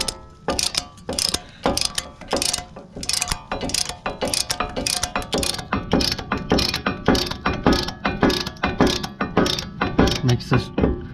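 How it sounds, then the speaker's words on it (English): A ratcheting caliper piston press tool pushes the pistons back into a fixed brake caliper, making a close, loud series of rhythmic ratchet clicks repeated steadily as the handle is worked back and forth. "then you just ratchet it back and forth until your pistons are pressed all the way back in"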